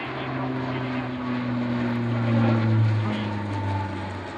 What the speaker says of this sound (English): this is a very impressive roll under from the C-27J, right in front of you.